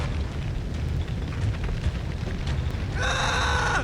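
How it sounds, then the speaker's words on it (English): Steady roaring crackle of flames burning in Return to Krondor, a dense continuous rumble with faint pops, joined near the end by a tonal game sound. "As the flames burn ever higher"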